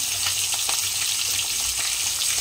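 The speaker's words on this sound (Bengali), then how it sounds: "কাঁটাগুলো ভেজে ভেজে তুলে নিচ্ছি" Fish bones fry in a pan of hot oil with a steady, dense sizzle and crackle that carries on unbroken throughout, close and fairly loud.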